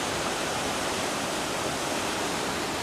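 A roaring Icelandic waterfall gives a loud, steady broadband rush with no break, heard close and alone without any voices.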